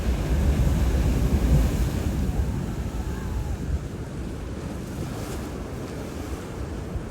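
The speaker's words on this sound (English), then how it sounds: "It's almost up close and personal like Hawaii, but these waves are more powerful." Powerful ocean surf crashing onto a Canary Island beach, a loud continuous roar of breaking waves and wind buffeting the microphone, easing slightly after the first few seconds.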